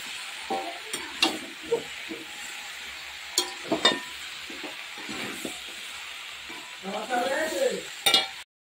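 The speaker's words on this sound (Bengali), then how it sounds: "তো আমি আস্তে আস্তে কষাচ্ছি এগুলোকে" Spices and nuts are stirred slowly in a frying pan, a soft sizzle under scattered scraping strokes of the spoon, with a burst of busier stirring near the end.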